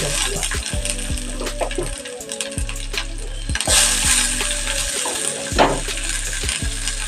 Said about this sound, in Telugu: ఒక పెద్ద ఉల్లిపాయ కట్ చేసి వేసేస్తాం ఇవి కొంచెం వేగాక